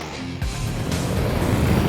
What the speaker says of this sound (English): So the Audi's just mighty off the line.